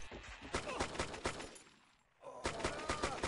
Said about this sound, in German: Ja, ich hab geschossen, Zombies.